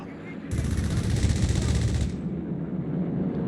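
In the Company of Heroes 3 strategy game, an aircraft strafes an MG-34 machine-gun crew with a dense, sustained burst of rapid gunfire that lasts about a second and a half and leaves a rumbling battlefield wash behind it.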